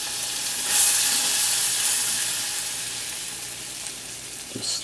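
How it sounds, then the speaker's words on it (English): Flour being whisked into a hot, sizzling pan gives a steady bright hiss of frying with faint scraping from the whisk, moderately quiet and close, with no talking. "I'm going to stir it all around."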